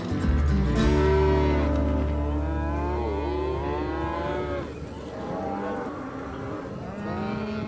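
Cattle on a working ranch moo loudly and repeatedly, deep drawn-out bellows overlapping one another close by, with no talk over them.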